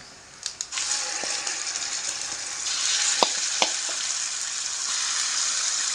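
Spices sizzle steadily in hot oil for a tamarind chutney tempering, a constant crackling hiss broken by a few sharp clinks of a utensil against the pan.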